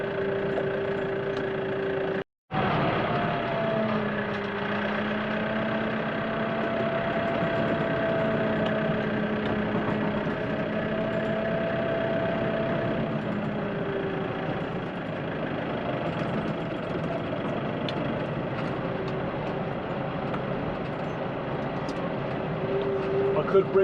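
A farm vehicle's engine idles steadily with a low, even rumble and slight knock, running continuously near the listener after a brief cutout at the start.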